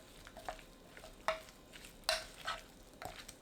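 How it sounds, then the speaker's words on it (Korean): Sliced zucchini is stirred together with green onion, minced garlic, fine salt and perilla seed powder, producing a few soft, separate scraping and clinking knocks from a utensil in a bowl over quiet background. "애호박에 파, 다진 마늘 반큰술, 고운 소금 4분의 1큰술, 들깨가루 1큰술 넣고 섞어주세요."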